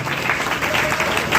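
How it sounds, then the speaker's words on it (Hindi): A crowd at a high school prize ceremony for meritorious students in Muzaffarpur, India, applauds steadily, dense clapping filling the whole moment at a moderate, even level. "जोरदार तालियां।"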